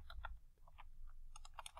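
Typing on a computer keyboard while entering a title in AutoCAD: a run of quick, irregular key clicks, close and fairly quiet, with a short pause partway and a faster burst near the end, and no talking.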